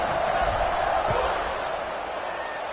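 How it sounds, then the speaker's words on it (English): A stadium crowd at a USC versus Purdue college football game keeps up a dense, steady buzz of noise after a touchdown, loud and continuous throughout with a couple of low thumps beneath it. "this crowd is buzzing after that last score"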